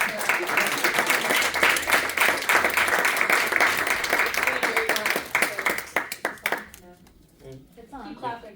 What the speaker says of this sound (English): let's just give it one more round of applause